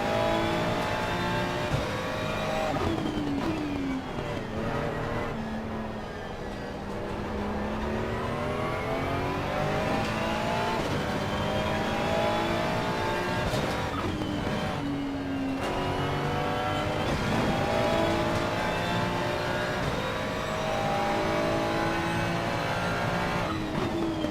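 Race car engine in the ACC racing game, a Mercedes AMG GT3 Evo at Oulton Park, revs up and down through repeated gear changes, loud and continuous with occasional tire noise and no talking.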